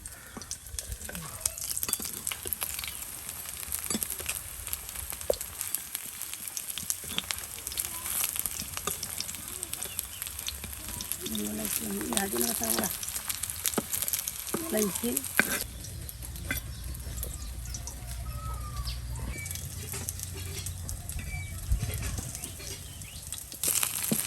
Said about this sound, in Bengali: দেখুন কত সুন্দর করে কিন্তু বড়াগুলো বেজে নেওয়া হচ্ছে।